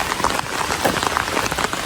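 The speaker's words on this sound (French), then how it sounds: "par contre il pleut vraiment, c'est abusé" Heavy rain falls steadily and densely, a continuous close hiss of drops pattering on hard surfaces with scattered sharper splats, no voices.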